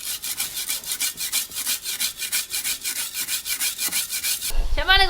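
A kitchen knife, its edge damaged from chopping, is sharpened in steady back-and-forth strokes on a stone, a loud regular scraping rhythm of about twenty passes, ending as another sound comes in.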